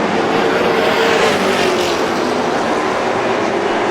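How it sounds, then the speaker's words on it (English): Stock race cars roaring around the Star Speedway oval in a Pro All-Star Series 150 race, a loud continuous engine drone with a faint passing whine, close and unbroken throughout. "Good, hard, clean racing at the front of the field in the Pro All-Star Series"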